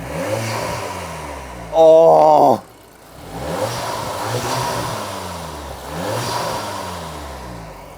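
Modified car engine revs hard in one loud, sharp burst, then settles back to a rumbling idle that swells slightly; a brief exclamation is heard.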